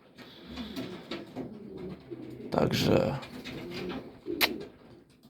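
Pigeons coo softly inside a loft, low rolling calls rising and falling close by, with a voice briefly speaking over them.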